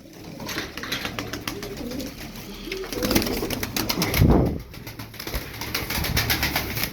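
Tumbler pigeons cooing softly amid a busy flock of about fifteen birds, low murmuring coos with faint fluttering and rustling throughout.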